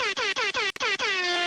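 A bright, reedy air horn sounds in a quick rhythmic run of about six short falling blasts and then one longer held blast, close and loud with nothing else around it.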